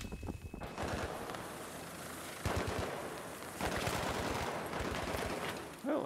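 Battlefield 3 gunfire, dense rapid automatic shooting sustained throughout in a continuous loud clatter, with several heavier bursts and echoing reports layered in a busy battle mix.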